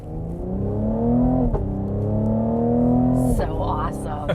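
A Cadillac CT5-V's 3-liter twin-turbo engine drones steadily while driving, its pitch rising and easing through two pulls with a brief shift gap between, heard from inside the cabin.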